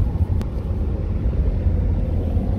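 A steady, loud low rumble of a family car driving along a road on a sunny day, heard from inside the cabin, with continuous engine and tyre drone and no voices.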